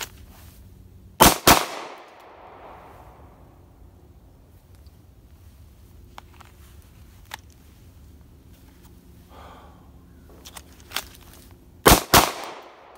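A Glock 19 Gen 5 pistol fired from the draw, two loud sharp double reports near the start and another close pair near the end, with quiet handling and movement noises in between.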